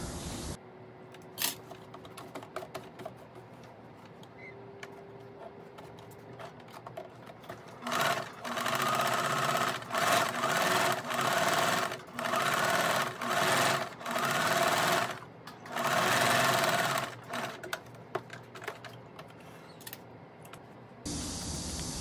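A sewing machine runs in several long bursts of rapid stitching on a shirt-collar dress, sewing double rows for pleats, separated by short pauses, fairly close and steady.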